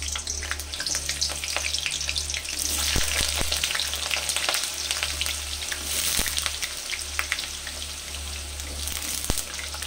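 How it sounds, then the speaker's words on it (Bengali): Potatoes fry in hot oil in a pan, giving a loud, steady sizzle that crackles evenly for the whole stretch with no voices over it. "তেল গরম হয়ে গেছে, ওই তেলের মধ্যে আমি আলুগুলোকে দিয়ে দিচ্ছি।"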